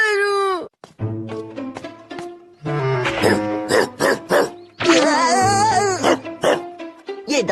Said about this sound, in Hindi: ये डॉगी हमेशा मुझ पर भौंकता है।